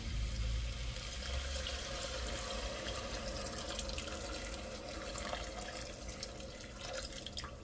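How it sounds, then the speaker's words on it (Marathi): Water is poured into a pan of green pea curry with spiced masala, a steady soft splashing and trickling that runs continuously, fairly quiet and close. "पाणी टाकून घेऊया"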